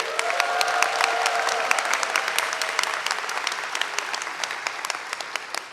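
Audience applause at a choir seminar reading session, a steady wash of many hands clapping with sharp individual claps throughout, moderately loud and close, fading slightly toward the end with no talk over it.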